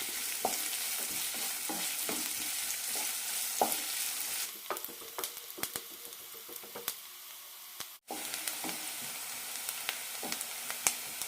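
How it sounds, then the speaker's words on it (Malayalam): Long-sliced onion sautés in a pan, a soft steady sizzle broken by scraping stir strokes, fairly quiet and with no talk over it. "ഇനി ഇതിലേക്ക് നീളത്തിലരിഞ്ഞ ഒരു സവാള ഇടാം സവാള ചെറുതായി ചോക്കുന്നത് വരെ വഴറ്റിയെടുക്കാം"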